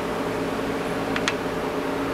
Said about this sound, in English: Yeah, the fan's running in the background.